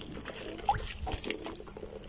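Rice water used to rinse grains is poured from a container onto garden plants, a short close splash and trickle onto soil with no talk.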